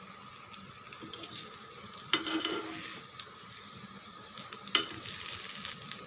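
Bottle gourd kuzhi paniyaram fry on medium heat in a paniyaram pan, giving a soft, fairly quiet sizzle broken by a couple of louder scrapes and clinks as they are turned.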